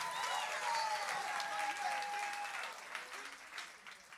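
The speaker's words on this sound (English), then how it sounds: "Give him a round of applause." Applause from a church audience at a Monday night gathering, a moderate wash of clapping that fades gradually, with a faint sustained tone and brief murmurs of voices mixed in.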